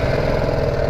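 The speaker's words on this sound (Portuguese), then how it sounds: "é claro que isto é o escape de origem" A BMW G310R motorcycle with its stock exhaust runs steadily near the microphone, giving a continuous mid-pitched engine hum with no clear revving across the second.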